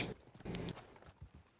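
Hooves of a ridden horse clip-clop in Red Dead Redemption 2 Online, a quick run of close, moderately loud beats with a rumbling low layer, with no talk over them.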